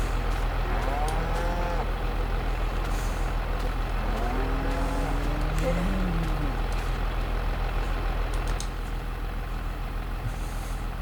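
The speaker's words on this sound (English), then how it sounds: "Dang interdimensional cows." Cattle in a farm herd low twice, two drawn-out moos rising and falling over a steady engine idle and faint mechanical noise, fairly close, with no talking.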